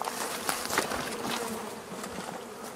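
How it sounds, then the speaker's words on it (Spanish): Honeybees arriving at a new hive box after an enormous comb is rescued fill the air with a dense, steady buzz, close and continuous with no talk. "Como se dan cuenta, están llegando algunas abejas."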